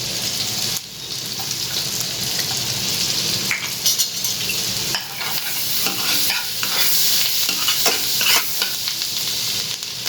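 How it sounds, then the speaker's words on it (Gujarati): Finely crushed garlic fries in butter and oil in a frying pan, a loud continuous sizzle broken by scraping stirs and crackling spatters, close up with no voices. "હવે આમાં ઝીણું ક્રશ કરેલું લસણ નાખીશું"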